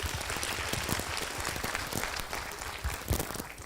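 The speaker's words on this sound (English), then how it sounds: "Big round of applause for Nitesh." Lively applause from a university audience greeting a student named Nitesh, dense clapping from many hands in a room, steady and moderately loud throughout, with no voices standing out.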